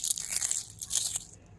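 Thin, crispy homemade chilli potato chips snap and crunch as they are broken by hand, a quick burst of bright crackles lasting just over a second, close and alone.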